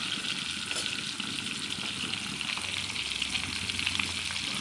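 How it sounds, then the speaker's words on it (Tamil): Fish frying in hot oil with curry leaves, a steady dense sizzle and crackle close up, continuous and even, with no talking. "மீன் எப்படி பொரியுதுன்னு பார்த்தீங்களா?"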